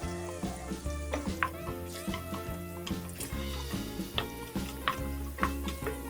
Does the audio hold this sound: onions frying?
yes